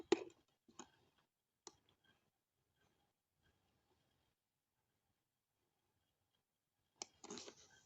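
A computer keyboard key is tapped several times, giving sharp, faint clicks spaced apart in a quiet room, ending with a short burst of quick keystrokes.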